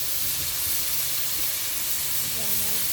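Soy sauce poured into a hot pan of cooking crabs and seashells, giving a steady broad hiss and sizzle that runs the whole time with low rumbling underneath.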